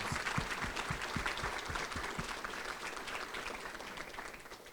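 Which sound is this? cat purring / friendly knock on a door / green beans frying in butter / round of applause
round of applause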